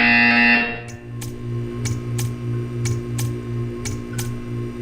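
A buzzer in the video game Portal 2 sounds as a series of about seven short, evenly spaced electronic pulses over a steady low mechanical hum, fairly loud and close, with no talking.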